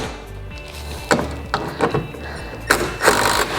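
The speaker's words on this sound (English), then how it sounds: "switch over to your 7/16 nut driver and tighten up your 1/4 bolts" A 7/16 nut driver tightening quarter-inch bolts on a portable toilet, giving several short, close clicks and ratcheting bursts over a low background hum, with no talk.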